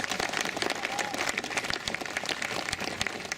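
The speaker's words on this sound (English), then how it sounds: "I'd like you to join me in applauding Stephen for his leadership on this effort" Audience applause at a Winnipeg Art Gallery gathering, a moderately distant wash of clapping with irregular sharper claps poking through, fairly steady over a few seconds.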